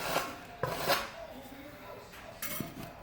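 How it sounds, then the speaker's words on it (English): A handheld scraper scrapes excess tile adhesive from joints between porcelain floor tiles, making short rasping, scraping strokes with metallic clinks, a few separate bursts close by and moderately loud. "So you just take your handy trusty scraper and scrape it out."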